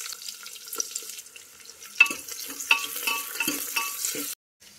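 Onion, mustard seeds, cumin and Byadgi chilies fry in ghee for rasam rice, crackling and sizzling up close as a spoon stirs with sharp scraping strokes before the sound cuts off.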